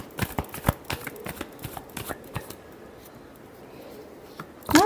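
Tarot cards are shuffled by hand during a reading, a rapid run of soft riffling flicks and taps up close, easing into quiet rustling before a final sharp snap, with no voices.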